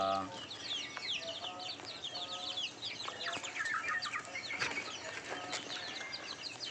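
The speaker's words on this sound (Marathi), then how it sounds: "आपल्या पोल्ट्रीवरील पक्षी" A flock of free-range country chickens clucks and chatters continuously at moderate distance in a poultry farm during the rainy season, with occasional wing flaps amid the busy poultry noise.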